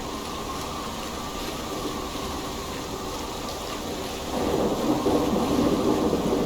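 Thunderstorm at sea in Assassin's Creed Valhalla, with steady rain and rumbling thunder throughout that swells louder and heavier toward the end, no voices present.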